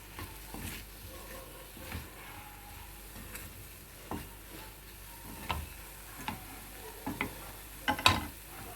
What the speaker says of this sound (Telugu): ఇలా వేగేటప్పుడు ఒక ఎల్లుల్లిపాయ గర్భం కొంచెం పసుపు వేసి తిప్పండి ఒకసారి